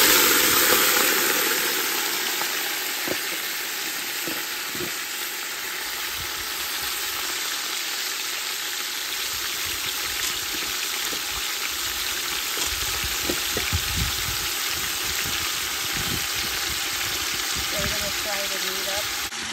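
Meat sizzles in a pot for Guyanese backyard cook up rice with turkey wings, dry shrimp and pigtails, a constant frying hiss with occasional crackles and a low engine-like hum beneath.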